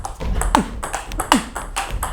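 A table tennis rally with a STIGA Perform ABS plastic ball, several crisp pings and taps trading back and forth at an even pace, close and clear, with no voices.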